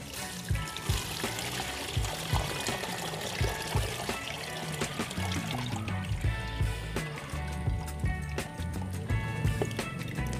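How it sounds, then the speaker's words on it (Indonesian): Water is poured off charcoal sediment that has settled in a container, a close, continuous trickling and splashing pour with uneven gurgles, with no talking. "Nah, ini setelah dia mengendap, kita buang airnya."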